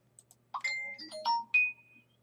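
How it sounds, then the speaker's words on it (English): A phone notification chime sounds, a short sequence of clear, bright electronic tones ringing out one after another against a quiet background. "And my phone goes off."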